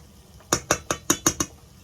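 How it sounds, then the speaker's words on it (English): A whisk or spoon clinks sharply against a mixing bowl six times in quick, fairly even strokes while ingredients for beef patties are mixed, each tap close and bright with short ringing decay. "using our whisk, we're gonna mix everything, or our spoon, we're gonna mix everything together like so"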